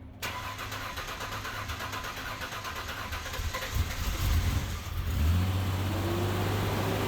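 A Ford Sport Trac engine cranks and catches, then idles and revs upward with rising pitch, loud and close, with no talking.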